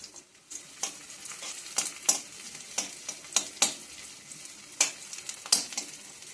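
Onions and garlic frying in a pan, with a steady soft sizzle broken by sharp, irregular scraping stirs every half second or so, close and fairly quiet.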